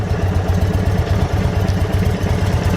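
A 2026 Indian Chief Vintage motorcycle idling up close, its big V-twin engine thumping in a loud, steady, lopey rhythm with mechanical clatter throughout and no talking.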